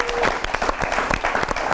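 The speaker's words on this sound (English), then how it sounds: "Our technical crew, you deserve an applause." Applause from an audience at a televised debate show, dense clapping that stays steady and fairly loud through the short stretch, with no voices over it.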